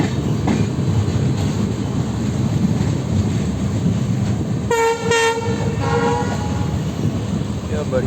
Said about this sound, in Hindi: क्या बढ़िया हॉन्किंग है भाई WDP-40 का